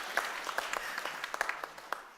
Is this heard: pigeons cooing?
no